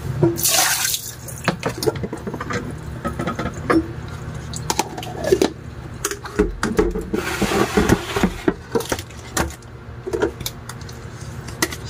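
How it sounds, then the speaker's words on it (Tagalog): Running tap water splashes into a kitchen sink as a baby bottle is washed and rinsed, with steady flow broken by sharper splashes and clunks of plastic moving under the stream, close and fairly loud. "maghuhugas tayo ng dede ng ating junakis"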